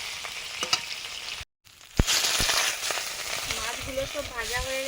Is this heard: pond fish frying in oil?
yes